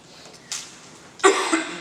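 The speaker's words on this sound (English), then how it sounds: "don't mean to cough in your ear" A person coughs during an indoor training talk: a short, faint burst followed by a louder, longer cough, standing alone without speech.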